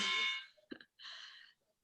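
A telephone ringing indoors in two short electronic trills separated by a brief pause, faint and nearby with no voices over it.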